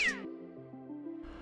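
A cartoon cat in a game jam video game meows once, loud and close, a short rising-then-falling cry followed by a bright tonal tail that holds steady before a soft noisy finish.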